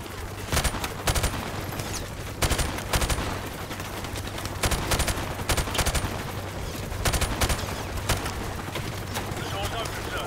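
Call of Duty 4: Modern Warfare gunfire, repeated rapid bursts of automatic fire cracking in loud clusters every couple of seconds, with a voice talking underneath between volleys.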